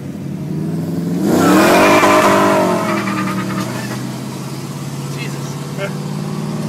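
A race truck's engine revs hard, swelling to a loud, rising roar and then fading as the truck passes through a turn, with people talking over the noise.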